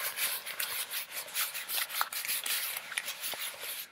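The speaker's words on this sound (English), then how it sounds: "God, this book feels amazing. I'm just gonna feel this." A hand rubs and strokes the cover of a paperback book up close, producing soft, quiet rhythmic swishing and scratchy brushing strokes with no talking.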